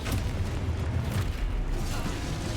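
A Confringo spell explodes in Hogwarts Legacy as a deep, rumbling boom with sustained low-end roar through the short stretch, fairly loud and without talk.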